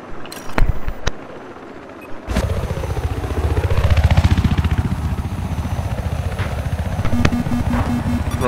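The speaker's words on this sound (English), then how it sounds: "I got the chopper." A Battlefield 4 helicopter's rotor thumps and engine drone rise and swell steadily after a few sharp clicks, loud and close, with no talking.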